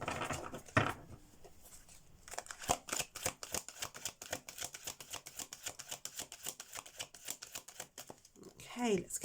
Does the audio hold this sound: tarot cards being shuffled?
yes